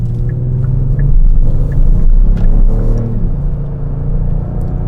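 A 2022 Kia Stinger GT2 driving with a loud, steady engine rumble heard from inside the cabin, swelling slightly as it accelerates, with faint road noise underneath and no talking.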